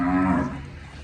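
A Cholistani Friesian cross cow at a livestock sale in Pakistan moos once, a loud, close, sustained low call that fades after about half a second.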